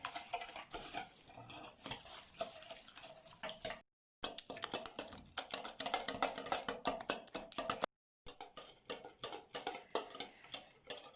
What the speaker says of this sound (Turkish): Ve biraz şekerle yumurtayı çırpmamız lazım.